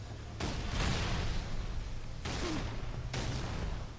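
Grenade blasts in Halo 3 combat: a broadband boom near the start, then two more bursts about a second apart, over continuous battle noise and low rumble, loud and close.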